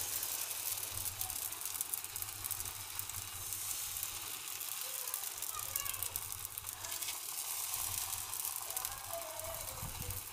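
Steady, soft sizzling of a sweet puda pancake frying in ghee over low gas on a nonstick tawa, continuous and close under quiet background noise.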